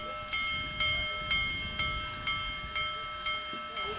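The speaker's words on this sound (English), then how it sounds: "when you bring the world's largest steam locomotive, the big boy, I mean, it draws crowds." Union Pacific Big Boy steam locomotive, the world's largest, chuffing in a slow regular rhythm of about eight strong exhaust beats, heard close with a faint ringing tone under them.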